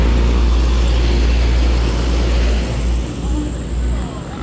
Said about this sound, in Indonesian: ini lalu lintas pagi hari ini terpantau sangat ramai